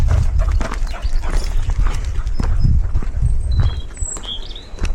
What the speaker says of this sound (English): Horses are getting a groom over there, which is rather lovely.